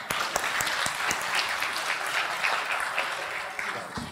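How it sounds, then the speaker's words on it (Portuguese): A seminar audience claps steadily and fairly loudly throughout, a dense patter of many hands with a few sharper individual claps standing out. "palmas para ela."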